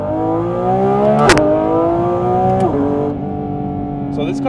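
Porsche GT4 RS with a GT3-derived engine revving hard through a quick acceleration pull, a loud rising harmonic wail with sharp gear-change breaks, close and continuous.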